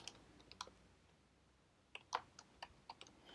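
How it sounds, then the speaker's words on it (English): Keys on a computer keyboard click faintly and sporadically while Java code is entered, in a few short, scattered bursts with quiet gaps between them. "I'm going to start off by typing"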